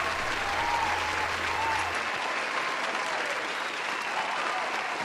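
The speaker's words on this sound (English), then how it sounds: "Cue applause here." Canned applause plays as a sound effect on a rock music podcast, a continuous, even wash of clapping and crowd noise with a low hum beneath it for the first two seconds.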